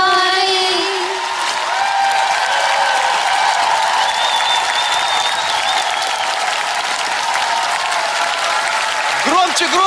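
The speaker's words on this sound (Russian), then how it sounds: "давайте, аплодируйте, друзья мои" Audience applause at a Russian comedy stage show, a continuous roar of clapping hands with cheering and whoops mixed in, loud and sustained under a held musical tone and stray voices from the crowd.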